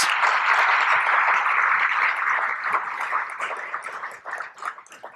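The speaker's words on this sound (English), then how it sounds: "So let's give Susanna a big round of applause" An audience at an LGBTQ awards ceremony breaks into sustained applause, a dense wash of clapping that holds steady, then thins and grows patchier as it fades toward the end.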